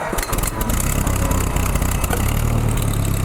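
A small farm tractor engine runs steadily after a choke start, with a loud, close, rough idle and even, rapid chugging throughout.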